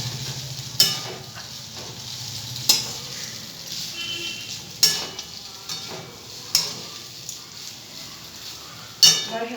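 Carrots fry in a pan, sizzling softly beneath repeated sharp clinks of a utensil scraping and stirring against the metal, the strokes landing roughly every two seconds.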